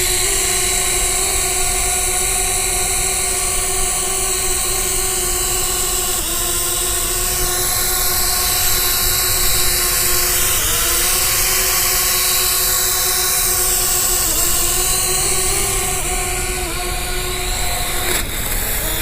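A JXD 523 Tracker mini selfie drone flies nearby on a low battery, its rotors giving a loud, steady high-pitched whine that shifts in pitch several times over about nineteen seconds.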